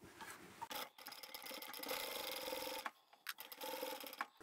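Sewing machine triple stitching the lining of a large craft bag, a close, steady mechanical whir running in continuous bursts that break briefly with short pauses between them, with no talking.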